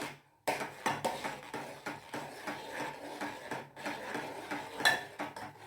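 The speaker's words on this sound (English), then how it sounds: "Stir it well." A metal utensil scrapes and clinks against a pot of tomato soup in steady, repeated strokes, fairly close, with no voices.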